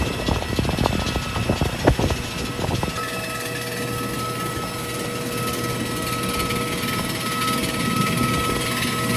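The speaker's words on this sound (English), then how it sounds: "Today we'll be flying on Airbus A320-215." Steady broadband roar of an Airbus A320-215 airliner on a Latam economy flight, engine and cabin noise filling the space continuously, with a few sharp clicks and knocks near the start before the drone settles.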